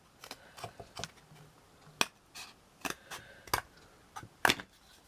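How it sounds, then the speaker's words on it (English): Scissors snip a square from material for a miniature lace bobbin table, producing a series of sharp, close, crisp cuts spaced irregularly, with quiet pauses between them and no talking. "I'm basically first of all going to cut a square."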